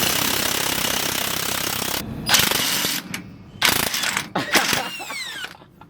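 Heavy impact wrench loosening and driving fasteners on the suspension of a 2016 Chevy Silverado being lowered, loud rattling bursts in short separate runs after a steady stretch of shop noise.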